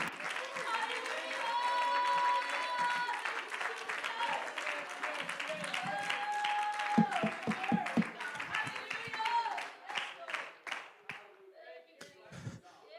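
A church congregation claps along during a sermon, a dense steady patter of many hands through most of the stretch, with musical tones and voices mixed in and the clapping thinning into scattered claps near the end.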